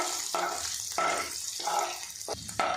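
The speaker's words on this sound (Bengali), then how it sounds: "দিয়ে পনিরটা আমি ভাজা ভাজা করে নেব" Paneer fries lightly in butter in a pan, giving a continuous hissing sizzle. Several stirring or turning strokes recur at intervals, each briefly changing the texture of the sound.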